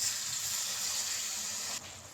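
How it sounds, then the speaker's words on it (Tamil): Water poured into a pan of cooking tomato and onion thokku makes a steady, hissing gush that cuts off abruptly near the end, leaving a softer simmer. "தக்காளி கொஞ்சம் நல்லா மசிஞ்சு வேகிறதுக்கு கொஞ்சமாக தண்ணி ஆட் பண்ணிக்கலாம்."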